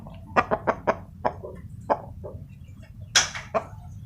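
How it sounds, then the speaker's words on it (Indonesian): A chicken suffering from a snoring respiratory disease makes a series of short, sharp, rasping clucks and wheezes, close by and irregularly spaced, with quiet between them. "Ini ayam ngorok"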